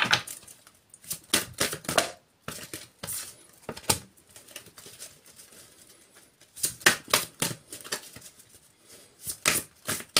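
Tarot cards are shuffled and drawn, giving soft papery taps and flicks in irregular clusters with quiet pauses between, close and fairly faint.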